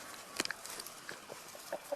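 Newly arrived hens clucking and making soft squawks close by, in short irregular bursts with quieter pauses between; no talking.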